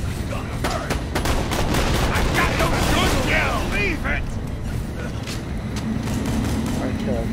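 Gunfire from a gun in Borderlands: The Pre-Sequel, a fast run of sharp shots through the first half easing into sparser bursts, loud and close under game sounds and a talking voice.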